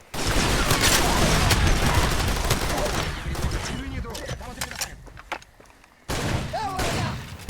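Dense bursts of gunfire and explosions in the video game Far Cry 2, loud and continuous at first, thinning out, with voices talking over the chaotic battle noise.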